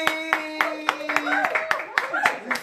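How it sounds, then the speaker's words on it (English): A small group clapping to welcome guests on a radio talk show, the claps irregular and close, with overlapping voices and tones beneath. "give a warm round of applause for Kym and Nuby"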